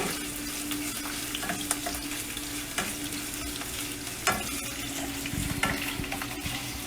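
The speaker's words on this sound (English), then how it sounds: "I like to saute my pork first." Cubed pork sautéing in oil in a pan for adobo, sizzling steadily up close with occasional stirring scrapes and clinks, and no speech.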